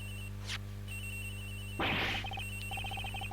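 Cell phone ringing in the Miles Edgeworth: Investigations game, a faint electronic ring tone beneath quiet background music, broken by a soft whoosh and a game sound effect.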